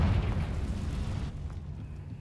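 Confringo fire spell blast in the Hogwarts Legacy video game: a heavy, booming burst with a rumbling roar that holds for about a second, then drops off into a low fading tail, with no talk.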